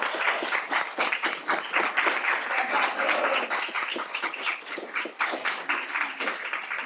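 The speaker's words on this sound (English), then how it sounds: "You can all clap." Audience applause after the last student speaker at a school district board meeting, a dense, moderately loud patter of many hands that runs steadily and thins slightly toward the end.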